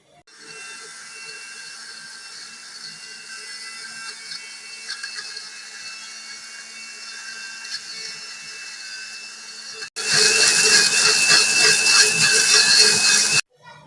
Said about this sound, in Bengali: এখন সবগুলো একসাথে ব্লেন্ডার করে নেব।